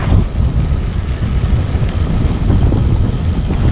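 Strong wind buffeting the microphone during an evening bike ride on a sunny day, a loud continuous low roar with no voices.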